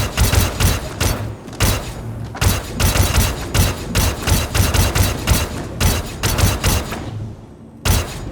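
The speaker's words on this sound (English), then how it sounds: "The shooting often attracts people." Rapid bursts of gunfire in Star Citizen during a bunker mission, loud and close, with clustered shots broken by brief pauses and some deeper thuds underneath, no one talking.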